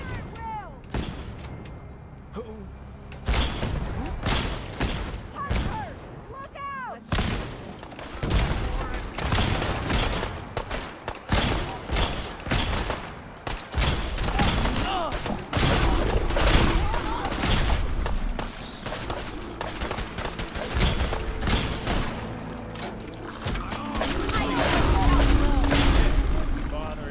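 Battle against Gulpers in Fallout 4, a dense fusillade of rapid gunshots and booms cracking nonstop, with shouted voices mixed under the barrage.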